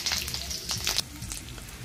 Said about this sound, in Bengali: এখানে ফোড়নের জন্য তেজপাতা, কাঁচা লঙ্কা আর গোটা জিরে দিয়ে দেব।